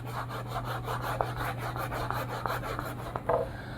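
Writing being rubbed off a board during a JEE maths lecture, a continuous close scrubbing rasp with rapid back-and-forth strokes, steady and loud with no talking.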